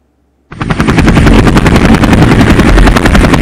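Huey helicopter sound effect bursts in after a moment of silence, with loud, rapid rotor blade thumps pounding steadily and close up.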